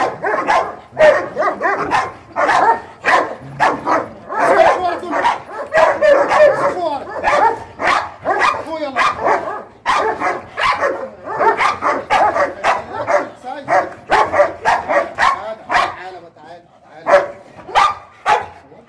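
A guard dog being tested for aggression barks repeatedly and loudly in close, rapid bursts, with someone talking and shouting over it throughout.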